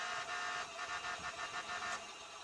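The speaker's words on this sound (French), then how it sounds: "Mais écoutez que le klaxon." A synthetic tractor horn in Farming Simulator 17 honks in a short series of bursts over a steady electronic hum, with no talking.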